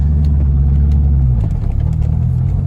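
A Chevrolet C5 Corvette on the road, its engine giving a loud, steady low rumble from inside the car that shifts in pitch partway through as it drives.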